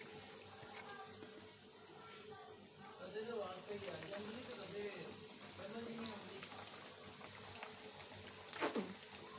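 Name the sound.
chicken burger patties frying in hot oil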